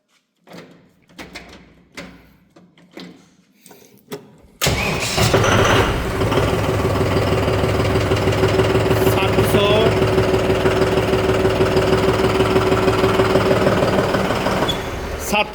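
A few sparse knocks and faint voices, then a loud tractor engine starts and keeps running with a steady, rough diesel chug close by.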